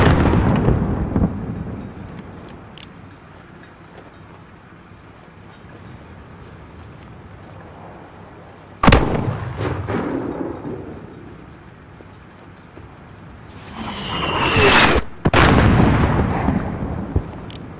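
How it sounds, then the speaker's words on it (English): Mortar and artillery fire in Call of Duty: Modern Warfare (2019), with a loud close blast near the middle, a rising whoosh into another sharp explosion near the end, and a rumbling background of distant battle. "There's still a mortar out there."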